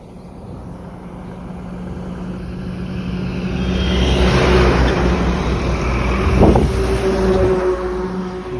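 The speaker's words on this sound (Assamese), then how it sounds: "এইখন হৈছে ট্ৰাকখন" A truck engine drones continuously while driving on the road, swelling louder toward the middle with heavy wind rush buffeting the microphone, then easing slightly near the end.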